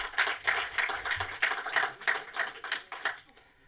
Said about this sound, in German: Ein Applaus für Michael Verhoeven